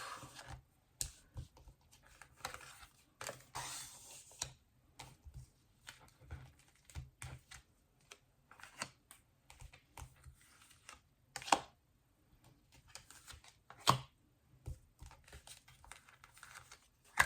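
Large tarot cards being shuffled and laid out on a table, soft scattered papery taps, slides and flicks in irregular bursts, quiet and close, with no talking.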